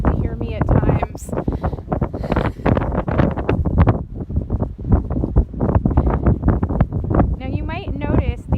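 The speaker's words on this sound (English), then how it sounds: "It is very windy out here." Strong coastal wind buffets the microphone at a beach, with heavy low rumbling gusts rising and falling throughout, mixed with someone speaking over it.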